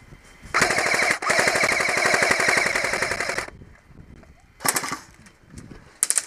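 Airsoft guns firing during a fast-action warm-up game, one long rapid burst of automatic shots followed by a couple of short, sharp bursts with gaps between them.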